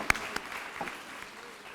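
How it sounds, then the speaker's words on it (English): Applause from an audience at a school graduation ceremony, a brief burst of clapping that starts sharply and fades over under two seconds. "a round of applause for you for"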